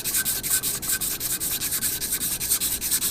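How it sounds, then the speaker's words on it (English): A sanding block rubs back and forth over an adhesive layer on a concrete surface, a close, steady scraping with a quick regular rhythm of strokes and no other sounds. "the reason I'm using this sanding block, if you will, is to keep it nice and uniform thickness"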